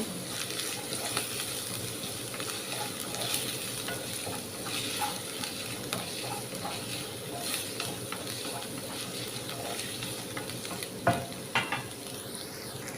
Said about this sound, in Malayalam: കറിവേപ്പില ഇട്ടുകൊടുത്ത് കഴിഞ്ഞാൽ നമുക്ക് ഇതിലേക്ക് ഒരു പത്ത് ചെറിയ ഉള്ളി ഇട്ട് കൊടുക്കാം ചെറിയ ഉള്ളി നന്നായിട്ടൊന്ന് വാടി വരട്ടെ